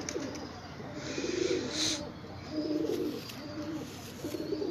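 A Sialkoti cross female pigeon coos softly at close range, making three rhythmic rolling coo phrases over quiet background hiss.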